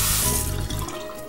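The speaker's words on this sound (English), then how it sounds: "So let's go ahead and start washing the face." Tap water runs steadily into a sink while a man washes his face before shaving, a close, continuous rushing stream that eases off near the end, with no talk.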